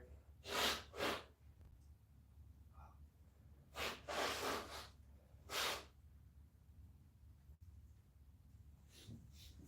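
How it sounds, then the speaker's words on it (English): Several forceful bursts of nose blowing into cloth, close and loud, in irregular clusters separated by quiet breathing. "I would love to blow my nose if I have a Kleenex around or something."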